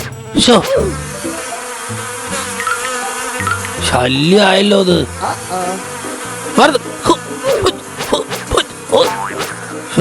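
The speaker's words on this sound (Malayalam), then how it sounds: "എന്താ ഇത്, തേനീച്ചയോ?" Cartoon bees buzz around a tree in an animated children's story, their whining drone rising and falling amid music while a character speaks briefly.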